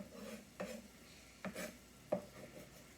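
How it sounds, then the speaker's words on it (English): Chopped onions go into a cooking pan for Turkish spiced beef, making three soft, separate clattering drops about a second apart against a quiet background. "Go ahead and add my chopped onions."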